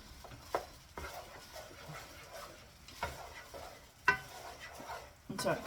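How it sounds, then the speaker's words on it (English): Rice for a Filipino meal with longanisa fries in a pan, a soft steady sizzle broken by several sharp scraping stirs and clinks of the utensil, close and fairly quiet. "So I'm just frying the rice."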